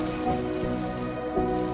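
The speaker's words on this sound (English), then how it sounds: "the rain is getting worse. You can hear it outside getting worse." Rain falls outside a tent, a dense, continuous patter and hiss on the fabric, steady and fairly loud with no voices.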